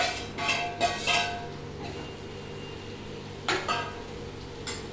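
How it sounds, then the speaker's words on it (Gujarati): Onion potato sabji cooking in a pot as chopped tomato pieces go in, with a few short clinks of utensils against the vessel at intervals over a steady low kitchen hum; no one speaks. "આ ટમેટો આપણે આમાં નાખી દઈએ"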